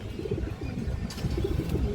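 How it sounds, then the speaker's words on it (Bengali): Pigeons coo at a farm where birds are kept for sale, a continuous, close, murmuring chorus of overlapping low coos with no voices. "এই দেখেন মাশাআল্লাহ খুব সুন্দর কবুতর"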